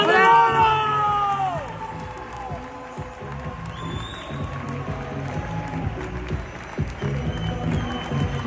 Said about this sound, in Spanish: Siempre con aplausos más bonito, ya lo sabéis.